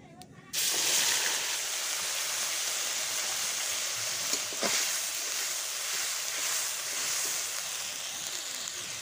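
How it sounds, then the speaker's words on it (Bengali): Ground spice paste tipped into hot oil with fried cumin seeds in a wok sets off an abrupt, loud sizzle that holds as a steady, close hiss for several seconds with no one talking. "জিরেগুলো ভাজা হয়ে গেলে আমি বেটে রাখা মশলাটা ওই কড়াইতে দিয়ে"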